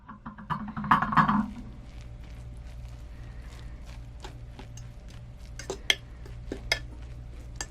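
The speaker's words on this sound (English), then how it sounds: "I'm going to take the lid off and fluff it up." A metal pot lid lifted off with a clank, followed by light scraping and tapping as a utensil fluffs cooked Mexican rice in the pot, close and quiet over a low hum.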